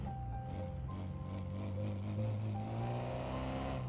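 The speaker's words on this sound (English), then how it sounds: "they've done a lot of work on the engine sounds" A car engine in Car Mechanic Simulator 2026, a compact hatchback styled like a Honda Civic, revs steadily and climbs in pitch with a rising drone, loud and close, with no talk over it.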